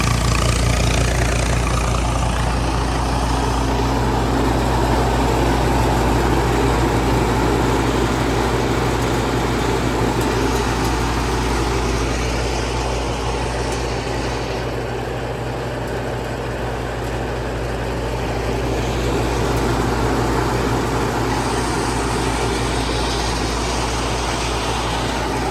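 A thresher driven by a tractor runs steadily on a farm, a constant loud droning engine hum with a mechanical rumble and whir that holds unbroken for the whole stretch, no voices.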